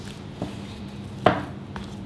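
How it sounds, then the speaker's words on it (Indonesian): A utensil stirs cake batter with folded-in egg whites in a bowl, making a few soft knocks against the bowl, with one sharper clink in the middle, close and quiet. "Kita aduk lagi sampai tercampur rata, sambil dimasukin putih telur"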